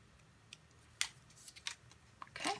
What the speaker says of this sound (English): when you're cutting, you always turn your paper with the opposite hand that you hold your scissors with